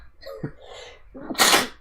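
One big human sneeze, starting with a short intake and building to a loud, sharp burst near its end, close and clear during a casual gaming podcast.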